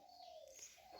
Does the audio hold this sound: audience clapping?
no